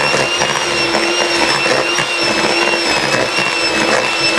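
An electric mixer beats amaretti cookie dough with a steady, loud motor whine and a constant hum, running without pause and without talk.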